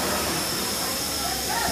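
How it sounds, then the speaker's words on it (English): A train engine arrives at a station in the Himalayas within sight of Kanchenjunga, giving off a loud, continuous hiss of steam that runs unbroken and close throughout. "so here comes our engine."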